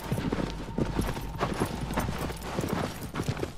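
Galloping horse hooves in the video game Shadow of the Colossus make a steady, rapid clip-clop that repeats clearly and continuously throughout.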